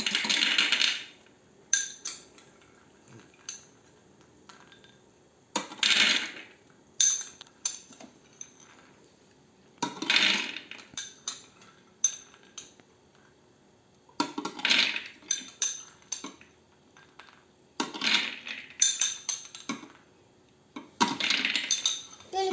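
Roasted hazelnuts being spooned out in a home kitchen, with bursts of metal spoon scraping and clinking against a dish, separated by quiet pauses and repeating several times.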